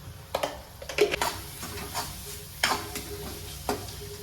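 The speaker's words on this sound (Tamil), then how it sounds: "நல்லா வதக்கி விட்டுக்கலாம்." Tomato with turmeric, chili powder and coriander powder being sautéed in a pan for an egg gravy, with a soft sizzle under a few sharp stirring scrapes and clinks of the spoon against the vessel.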